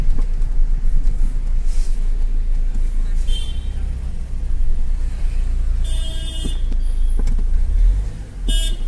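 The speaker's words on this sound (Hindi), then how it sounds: "तो फाइनली अब हम इसका टेस्ट ड्राइव लेने जा रहे हैं।" Mahindra XUV 500 with a power steering rack noise problem on a road test drive, steady loud engine and road rumble throughout, with faint passing horns and a voice speaking over it.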